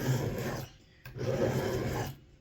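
A file or sharpener rasps steadily against the edge of a steel Tusker Concord broadhead while a single bevel is ground, in two close back-and-forth strokes separated by a brief pause, with no talk.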